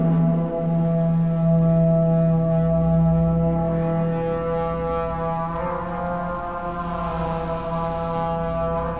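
A long, sustained bugle blast over water, deep and loud, holding one steady tone for several seconds with a slightly brighter swell near the end.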